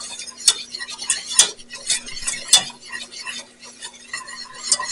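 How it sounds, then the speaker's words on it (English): Utensil scraping and clinking against a pot while a flour mixture is stirred, a steady run of close, light metallic scrapes with a few sharper knocks, no talking. "you want to mix this really well because you don't want any raw flour in there"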